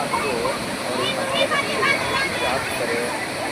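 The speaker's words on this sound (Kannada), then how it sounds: "ಆ ನೀರಿನ ಶಬ್ದ ಯಾವ ರೀತಿ ಆಗುತ್ತೆ" Steady rushing water of a waterfall in Chikkaballapur district pours continuously, a broad wash of noise, fairly loud and close throughout.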